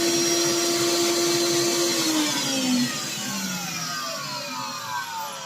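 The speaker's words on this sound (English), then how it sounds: "you're going to hear what the vacuum sounds like" A loud, whining record cleaning machine vacuum motor runs steadily up close, its pitch wavering and dropping slightly partway through, with no talking.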